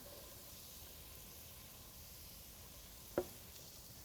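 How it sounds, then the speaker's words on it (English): Steady, quiet sizzling hiss of onions frying in hot oil, continuous throughout, with one brief sharp click near the end. "Get our onions in there. You'll hear a nice sizzle."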